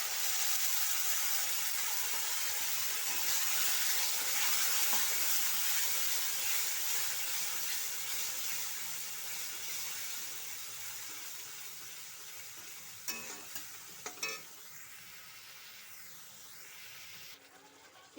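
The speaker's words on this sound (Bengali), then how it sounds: "এবার দিয়ে দেব বেটে রাখা মশলা।" Ground spice paste frying with onions in a pan for Bengali potol chingri, a steady hissing sizzle that slowly softens, with a couple of brief stirring knocks late on and no voices.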